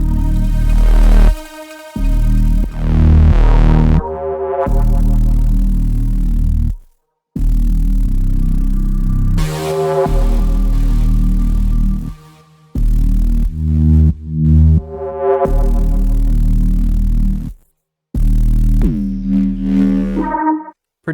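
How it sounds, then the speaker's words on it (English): Dark liquid drum and bass basses and synths produced in FL Studio, heavy distorted low bass notes with bright layered synth tones sounding together, loud and alone in phrases broken by short abrupt silences. "Then the basses and the synths, they sound like this together."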